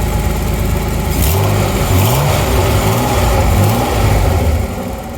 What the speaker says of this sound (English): give it a quick shot of gas.